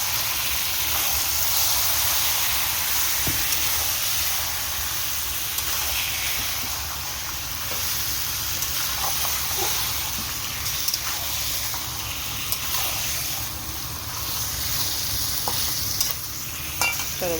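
Mutton browning in hot oil with garam masala and bay leaf, a loud continuous sizzle with hissing steam and occasional spoon scrapes in a home kitchen, steady throughout with no talking.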